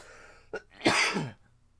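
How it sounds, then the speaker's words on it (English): A single forced, exaggerated sneeze, short and close, preceded by a quick sharp intake of breath. "He fake sneezed."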